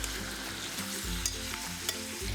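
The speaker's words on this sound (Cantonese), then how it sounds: "就可以將豬腩肉煎到兩面微黃色" Pork belly pan-frying in oil over medium heat, a steady sizzle broken by a few scraping stirs with a spatula, close and moderately quiet, no voices.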